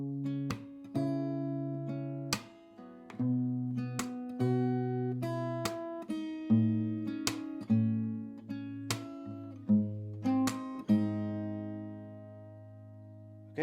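Fingerstyle guitar plays a song melody: a steady run of plucked notes over ringing bass strings, each note decaying before the next, quiet and close with no talking.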